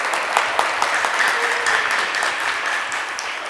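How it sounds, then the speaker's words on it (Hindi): Audience in a devotional morning lecture hall in Udhampur claps to welcome a guest, a steady burst of many hands close and fairly loud, with a few faint voices underneath. "सब तालियां बजा के स्वागत करो इनका।"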